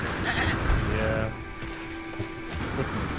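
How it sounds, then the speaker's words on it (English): A sheep bleats in a video game, a short nasal call over busy game noise with a brief crash-like hit, while a person talks over it. "That is an exploding sheep."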